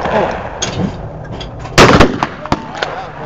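Gunfire and exploding targets at an outdoor shooting range during a birthday shootout, with several sharp reports and one louder blast over background chatter and distant shots.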